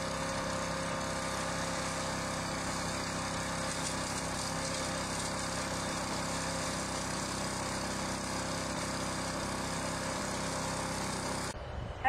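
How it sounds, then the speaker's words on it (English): Wood chipper leaf shredder with a 4 hp Honda engine, model CSV 2540, running while shredding pine cones and pine needles; a steady mid-loud engine drone with grinding texture continues unbroken before cutting off abruptly near the end. "Today, I'm going to be using the CSV 2540. That's our 4 horsepower Honda unit to shred up some of this material"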